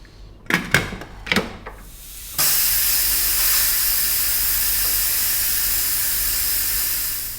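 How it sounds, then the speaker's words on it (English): A pressure cooker full of beef stew bursts into a loud, steady hiss of escaping steam that holds for several seconds, after a few sharp clicks and clanks of the lid. "I'm going to go in my pressure cooker for about 15 to 20 minutes"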